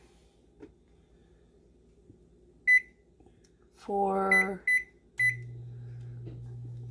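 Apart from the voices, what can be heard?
timer beeping while being set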